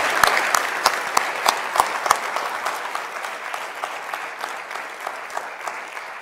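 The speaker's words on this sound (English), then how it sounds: "let's give God a clap of praise" A church congregation at a vision night gathering breaks into applause as praise, with a few sharp, close claps standing out at the start before the clapping settles into a steady, gradually fading patter.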